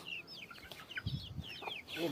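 Scattered soft clucks from chickens close by, a few short calls spread through a quiet farmyard background.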